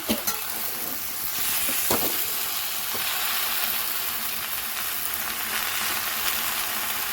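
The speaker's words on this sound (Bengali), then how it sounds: "এরপর এতে যে পুঁই শাকগুলি কুচিয়ে রেখেছিলাম পাতাগুলি, ওইগুলি দিয়ে দিলাম" Chopped Malabar spinach leaves sizzle steadily in a hot pan with vegetables for a shrimp dish. Occasional stirring scrapes sound over the continuous frying hiss, and no one speaks.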